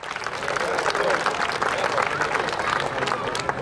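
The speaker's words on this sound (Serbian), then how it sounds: "Jedan topli i veliki aplauz za sve njih." An audience applauds at a folk music concert by the ensemble Venac during the Sava Jeremić days in Ražanj, with dense sustained clapping and crowd murmur, plus a voice over it.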